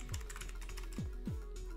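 Rapid keystrokes on a computer keyboard during an Apex Legends session, a steady close clatter of clicks running the whole time over quiet game effects with a few low descending swooshes.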